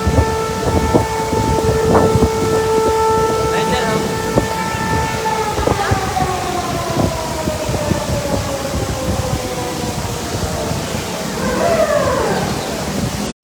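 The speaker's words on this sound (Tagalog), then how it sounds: "Yung narinig nyo kanina na tunog ng wangwang" A long wailing civil defense siren, warning of a second alarm on the Marikina River, holds steady tones that slowly slide downward, sounding loud and continuous over a rumbling background for the whole stretch.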